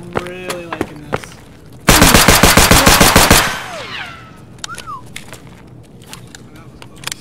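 A Glock 17 pistol in the video game Escape from Tarkov fires a rapid, evenly spaced burst of loud, close shots lasting about a second and a half. Someone talks quietly before and after the shooting.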